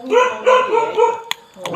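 A dog barks in a quick series of close, loud yaps and woofs at a rural farmhouse, with a couple of sharp clicks between the barks.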